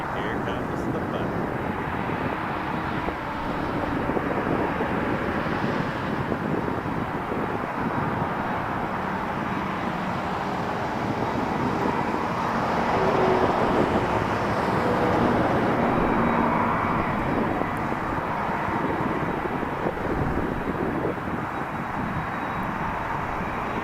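An Aer Lingus Airbus A330 airliner at Toronto Pearson airport, heard as a continuous loud engine roar with wind-buffeted rumble building and holding for the whole stretch, under faint radio chatter.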